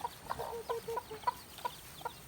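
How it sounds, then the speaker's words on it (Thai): Chickens cluck in short, scattered bursts around a concrete catfish pond at a rural garden farm in Phu Ruea, fairly near but soft over a quiet outdoor background, with no talking. "มีไก่ด้วยนะคะ"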